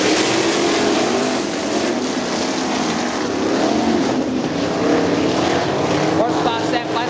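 Sprint cars race on the dirt speedway at Crystal Motor Speedway, their engines roaring in a continuous loud drone with wind buffeting, while a track announcer talks over the noise.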